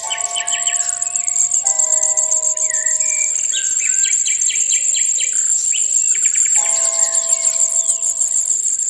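European robin chicks in the nest beg loudly for food with a dense, continuous stream of high, rapid chirps and peeps, close and steady, with a few sustained tonal calls running underneath.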